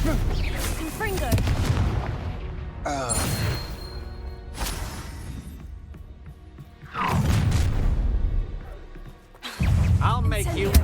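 Magic spell blasts in the game Hogwarts Legacy: a few heavy booming explosions spaced apart, with crackling tails between them and spoken voices over the action.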